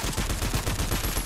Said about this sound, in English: How on earth am I missing my shotgun shots?